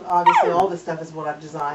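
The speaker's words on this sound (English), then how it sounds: "If you hear the little puppy cry in the background," A small puppy whimpers and cries in the background in a room where clothing for pets is shown, with short yips mixed in while someone talks steadily over it.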